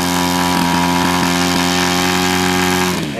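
A Fuji 43 engine on a scratch-built Albatros DVa model plane runs at a steady, loud, buzzing drone close by, with a few faint ticks and a slight drop in pitch at the end.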